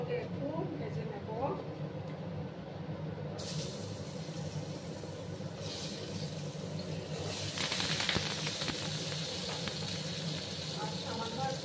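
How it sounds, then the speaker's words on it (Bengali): Potatoes with a pinch of turmeric drop into hot mustard oil, and a loud broadband sizzle bursts up and keeps hissing steadily close by while someone talks over it. "এবার আমি প্রথমে আলুগুলোকে একটু ফ্রাই করে নেব।"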